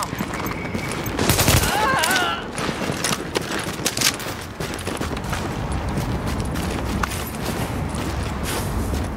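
Rapid bursts of gunfire in The Division, sharp repeated shots clustered in a loud fusillade early on, then scattered shots amid footsteps and ambient clatter, with a voice speaking at times.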